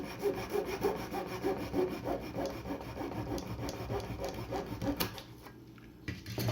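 Small wooden deadeye blocks for a miniature ship model being cut out by hand with a fine saw, a steady rhythmic rasping of close strokes that pauses briefly near the end.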